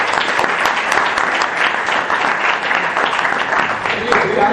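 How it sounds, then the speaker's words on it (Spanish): An audience in a provincial legislature hall, gathered for a national conference, claps in a thick, continuous wash of applause that stays steady and full throughout, with no clear voices on top. "Y abrimos, bueno, un aplauso."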